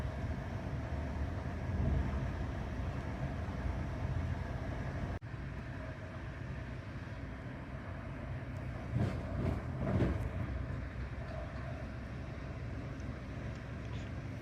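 Inside a moving international passenger train, a constant low rumble of wheels and carriage fills the space, faint and steady, with a few soft clunks and rattles along the way.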